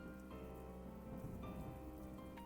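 A steady, faint downpour of rain hisses in the horror game Strange Tales from Longchun, a humid storm night, with sustained eerie tones held over the rainfall.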